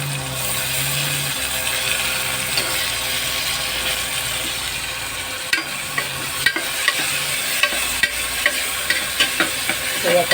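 Tomato sautéing with onion and curry leaves in a hot pan gives a steady frying hiss, stirred with repeated scraping and clicking strokes of a spoon against the pan in the second half.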